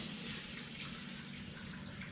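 Water poured over raw wool in a sink, a continuous broad rushing flow, steady and close, with no talk.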